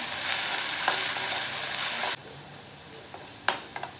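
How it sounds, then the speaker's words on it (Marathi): Finely diced potato sautés in ghee in a pan, a steady loud sizzle that cuts off sharply halfway, leaving a quieter simmer broken by a few clinks of a spoon stirring. "बारीक कट करून घेतलेला बटाटा टाकून घेऊया बटाटा परतून घेऊया"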